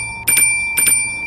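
A bell rings loudly twice in quick double strikes, each pair bright and ringing with a lingering metallic tone, close and clear with no voices.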